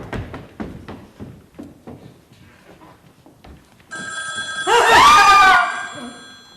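A telephone bell rings loudly in a room, a bright sustained ring starting after a few seconds of soft thumps and faint background talk, then cutting off.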